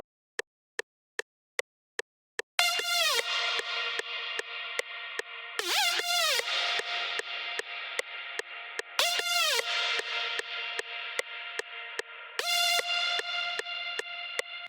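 Sharp electronic ticks lead into a bright synth lead playing call-and-response phrases, each bursting in then fading, over a steady electronic backing in a mainstage EDM track.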